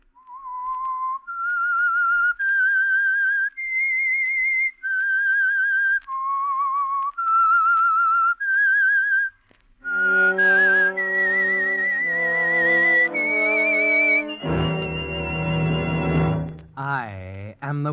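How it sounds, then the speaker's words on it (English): Whistled theme signal of The Whistler, an old-time radio mystery program: a lone melodic whistle rises and falls through a slow eerie tune, clear and close, then gives way to a swelling orchestral chord. "That whistle is your signal for the Signal Oil Program"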